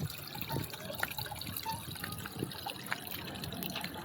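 Water flowing down from above over small stone steps at Sarasgad fort, a faint, steady trickle and splash with soft irregular drips, heard alone.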